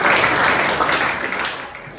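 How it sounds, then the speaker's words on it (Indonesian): A classroom audience gives a brief burst of dense clapping, loud at first and tapering off over about two seconds. "Tepuk tangan untuk semua."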